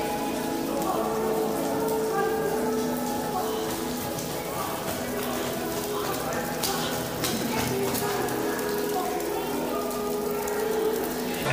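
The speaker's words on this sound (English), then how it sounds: "Really raining here." Steady heavy rain pours down, a dense continuous hiss of drops striking surfaces, loud and unbroken throughout.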